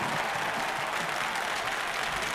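Dinner show audience applauding and cheering steadily throughout, a dense wash of clapping hands filling a large hall, close and continuous with no pauses.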